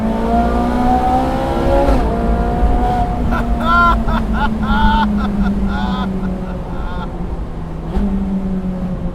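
A 2015 Ferrari 458 Speciale Aperta passes at speed, its engine note rising as it approaches and then falling away. The loud, high revving wail comes with quick shifts and blips.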